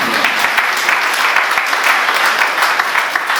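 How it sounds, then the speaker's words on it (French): Wedding guests at an official marriage ceremony applaud the couple with dense, steady clapping that is loud and close, filling the whole moment without a break. "On va applaudir encore pour ce couple."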